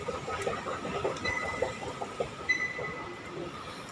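An airport link train rolls along with a steady low rumble and faint rhythmic wheel clatter, heard from inside, with a few light metallic squeaks and no clear talk.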